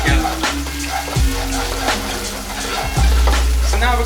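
Tomatoes with garlic and chilies sizzle in a pan, a loud close frying crackle with sputtering and stirring scrapes, broken by a few sharp knocks of a utensil against the pan.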